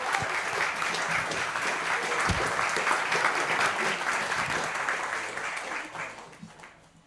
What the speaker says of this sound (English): Give a big applause to the UN Under Secretary General.